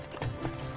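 Hooves of Roach, Geralt's horse in The Witcher 3 video game, clopping briefly in a quick, steady rhythm over a game soundscape.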